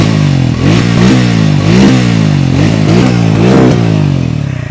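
A Triumph Speed T4 motorcycle engine revving close up, loud, with four or five throttle blips rising and falling over a rumbling idle.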